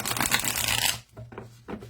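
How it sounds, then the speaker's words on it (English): Tarot cards are shuffled by hand, a dense riffling burst close up that stops abruptly, followed by a few lighter taps and card handling sounds. "if you do enough shuffling, you can usually get a bow out."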